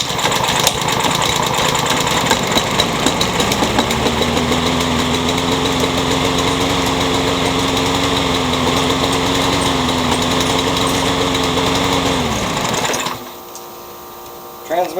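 Troy-Bilt riding lawn mower engine running roughly and loud, a steady droning idle with a wavering pitch for about twelve seconds before cutting off abruptly.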